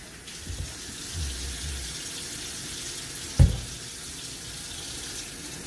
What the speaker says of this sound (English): Wash the spray tip with soap and water.